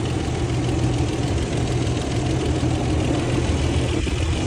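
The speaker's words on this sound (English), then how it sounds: "And this is the engine. I'm gonna get a little closer up here so you can hear." A car engine idles steadily up close, a continuous low rumble with a faint knocking texture holding even throughout, with no talking over it.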